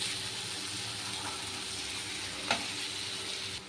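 Pieces of fish frying in hot oil in a pan, a steady close sizzle and crackle running the whole time, with one brief sharper pop near the end.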